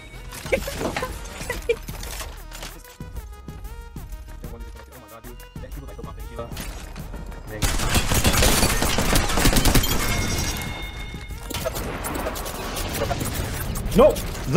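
Gunfire in a video game firefight with enemies shooting from two sides, dense rattling bursts and crashes building to a loud barrage midway, with frantic voices shouting over the din.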